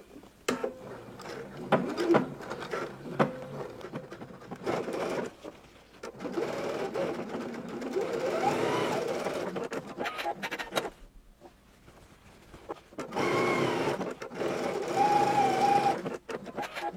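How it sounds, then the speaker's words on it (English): A sewing machine stitches a seam at a 3/8 inch allowance with back stitching, running in several bursts of steady whirring separated by short pauses. "we're going to go in a 3/8 inch seam allowance. And you will be back stitching."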